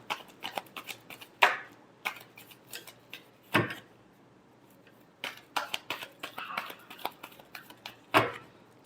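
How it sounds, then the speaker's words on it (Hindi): Tarot cards shuffled by hand at close range, heard as a series of quiet riffling bursts and crisp flicks between short pauses, faint and alone with no talking. "Last shuffle."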